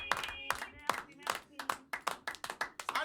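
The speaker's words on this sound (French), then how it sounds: "On applaudit Marie-Galante." Rhythmic hand clapping, sharp and close, repeats steadily in a lively beat, like a small group clapping together.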